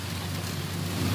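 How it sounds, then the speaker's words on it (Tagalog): Rain falling over a rice paddy during a harvest haul, a dense steady hiss with low rumbling noise, close to the microphone and unbroken through the short stretch. "Nandito na ako sa ulan"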